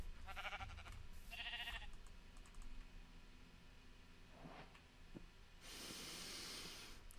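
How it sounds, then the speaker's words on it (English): Sheep in the video game Minecraft bleat in two short, nasal cries close together, with faint game ambience around them and no talk. "Hello, sheep."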